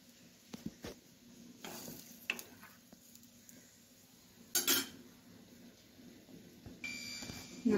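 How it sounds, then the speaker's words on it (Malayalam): Coconut chilli curry with fish pieces and pepper stirred in a pan, soft scraping and clinks of a spoon against the pan over a faint sizzle, with a few sharper metallic taps. "ഇതൊന്ന് മിക്സ് ചെയ്യുക."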